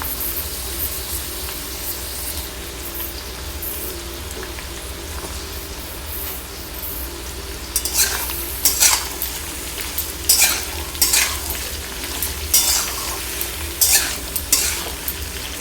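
Stalks, carrot, boiled soybean and brinjal frying in a pan, with a constant sizzle; after about halfway, a spatula scrapes and clatters against the pan in repeated bursts.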